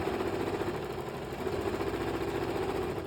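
Sewing machine stitching a tote bag strap, a steady mechanical whir with rapid needle chatter, running continuously and close by.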